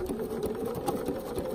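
A sewing machine stitches along the edge of a quilted fabric postcard, running in a fast, even mechanical whir with rapid needle clatter, close and continuous.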